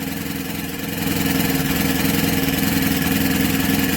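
A Honda EM500 generator engine runs steadily right after starting on the first pull, a close, even mechanical drone that rises slightly in level after the first second and holds without voices.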